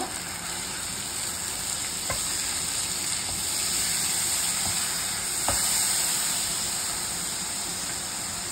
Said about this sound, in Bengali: এবার সামান্য একটু জল দিয়ে দেব মশলাটা কষানোর জন্য।